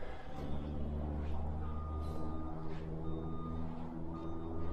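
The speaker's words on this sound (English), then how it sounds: "you can see the truck backing down now" A concrete truck backs up during a floor pour, its reversing alarm sounding in steady repeated beeps over a continuous low diesel engine rumble, fairly close.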